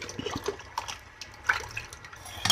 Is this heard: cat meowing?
no